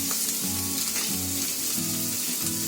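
Chopped vegetable with turmeric and salt frying in a hot pan, a loud steady sizzle with scraping stir strokes at a regular rhythm, close and without voices.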